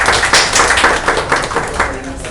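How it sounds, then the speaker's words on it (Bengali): Audience applause in a Bengali-language C# programming class, dense clapping running steadily through the short stretch, close and fairly loud with a busy, uneven rhythm. "হাততালি দেন ওনার জন্য।"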